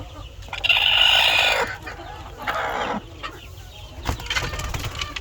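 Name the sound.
hen clucking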